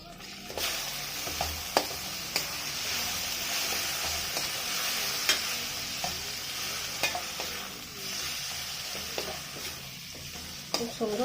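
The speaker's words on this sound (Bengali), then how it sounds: "রসুন ভাজা গেছে, এবার পাতাগুলো দিয়ে দেবো।" Drumstick leaves frying with garlic in a pan, a steady loud sizzle broken by scraping clicks as a spatula stirs every second or so, close up with no talking.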